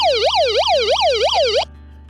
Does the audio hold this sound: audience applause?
no